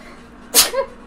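A single sharp, close sneeze bursts out, followed by a brief tonal tail, alone with no talk over it.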